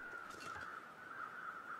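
Crows caw in the video game The Long Dark, a few harsh calls sounding faint and distant over a steady tonal hum.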